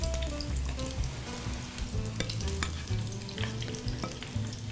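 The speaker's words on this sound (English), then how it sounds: "with deep frying, you don't want to overcrowd because the temperature will go down quickly." Shrimp deep frying in hot oil, a steady close sizzle and bubbling crackle with scattered pops, continuous throughout with low hum underneath and no talking.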